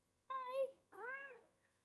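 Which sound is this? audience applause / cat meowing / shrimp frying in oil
cat meowing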